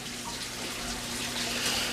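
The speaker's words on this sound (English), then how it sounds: "I clean those off really good with hot water, and then I put them back in" Hot tap water runs steadily over aquarium filter cartridges being rinsed clean, a close, even splashing rush at moderate volume with no voices.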